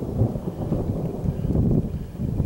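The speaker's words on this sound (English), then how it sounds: "wow, listen to that thunder." Deep, rolling thunder rumbles on and on, loud and heavy with wind buffeting the microphone, outdoors at an off-grid Arizona homestead. No one speaks.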